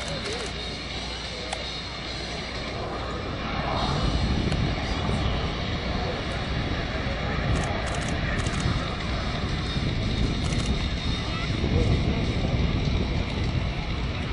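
A Navy F/A-18 Super Hornet lands during an air show demonstration, its jet engine roar broad and steady throughout, swelling louder partway through, with an announcer talking over the noise.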